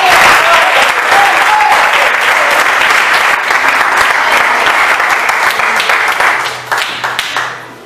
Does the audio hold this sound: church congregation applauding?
yes